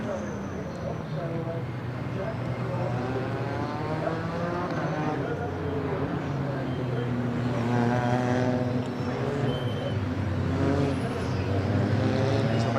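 A McLaren race car in a Britcar night endurance race passes on circuit, a steady engine drone with rising harmonics swelling louder toward the end, beneath continuous commentary.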